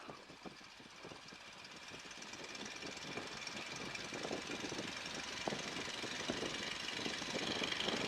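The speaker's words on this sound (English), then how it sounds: "The engine is nice and warm for us right now" A biplane's piston engine runs steadily with a knocking, rattling drone, fairly faint and slowly building in intensity, no speech.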